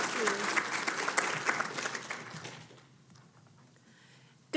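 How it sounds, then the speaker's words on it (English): Applause from a workshop audience at a K-12 education event, a dense round of clapping that starts fairly loud, then fades out over about three seconds and leaves near silence. "Give her a round of applause."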